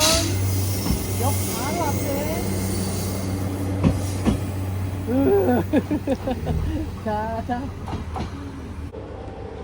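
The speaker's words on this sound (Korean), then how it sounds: "아, 이제 기차가 지나가면" A train runs along a seaside railway line by Chiwata station in Japan, making a low steady rumble with a few sharp clanks while people talk nearby.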